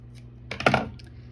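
Scissors cut a yarn tail during a scarf cast-off in knitting, giving a quick, close snip of a couple of light clicks in an otherwise quiet moment.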